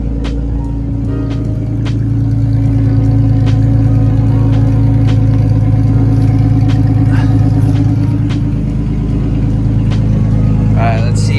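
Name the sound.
car engine running after welding the differential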